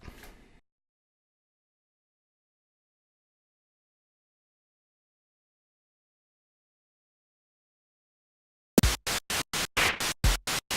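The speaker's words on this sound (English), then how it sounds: "So as you can hear now, it's just white noise playing repeatedly in your ear." After a long silence, bursts of synthesized white noise start, repeating in a quick, even eighth-note hi-hat pattern made in Korg Gadget.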